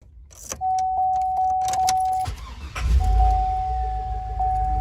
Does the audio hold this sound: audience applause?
no